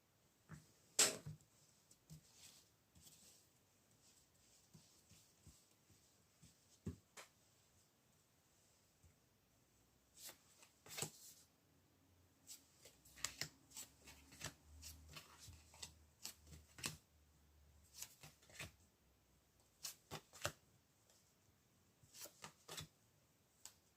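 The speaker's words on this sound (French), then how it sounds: "il est sans doute préférable de mélanger les cartes ici de nouveau pour avoir un maximum d'informations" Tarot cards being shuffled by hand, heard as bursts of riffling and soft slapping that come and go in an irregular rhythm, close and fairly quiet, with no talking.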